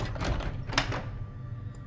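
A locked door being tried in the horror video game Asylum gives a single dull thunk over a steady, noisy ambient background.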